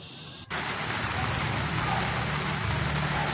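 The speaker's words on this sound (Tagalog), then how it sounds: "malakas na buhos ng ulan" Heavy tropical downpour in Dingalan, Aurora, starting abruptly after a brief moment and then roaring as a loud, dense, steady hiss of rain hitting surfaces nearby.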